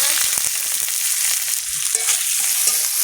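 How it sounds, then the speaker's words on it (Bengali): Cabbage fries in a pan, a bright crackling sizzle punctuated by spatula scrapes and stirring knocks, close and steady with no talking. "নিরামিষে বাঁধাকপি ভাজা"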